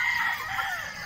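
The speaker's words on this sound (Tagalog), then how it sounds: "So ito mga bulik natin na inahin." Bulik breed hens and a rooster at a game farm, with a brief close crow-like call that sounds loud and strained.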